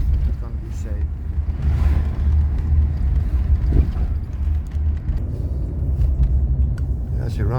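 A Mercedes-Benz W126 car driving: a steady low engine and road rumble from inside the cabin, continuous and fairly loud, with a person talking over it.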